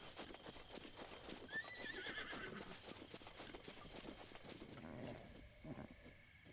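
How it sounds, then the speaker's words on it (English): A horse whinnies in the video game Zelda: Breath of the Wild, a clear rising neigh amid clip-clopping hooves and ambient game sound, fairly quiet overall. "Is that a blue horse? It's a very blue, tealish horse."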